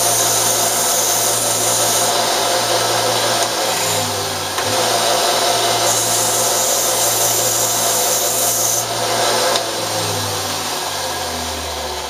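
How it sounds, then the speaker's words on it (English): A small electric sander works the edges of a metal cannon part, giving a steady, loud motor whine and grinding hum that runs nearly unbroken, with slight pitch dips as pressure changes. "I'm going to take this little sander here, and I'm going to hit the edges"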